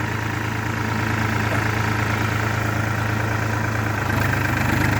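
A New Holland 4710 4WD tractor engine runs at a set RPM in first gear high while ploughing a field. It gives a steady, loud, low diesel drone with a constant hum, and the pitch rises slightly near the end.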